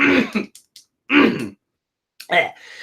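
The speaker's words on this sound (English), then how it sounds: "Let me clear my throat." Someone clears their throat in three short, raspy bursts separated by brief pauses, close to the listener.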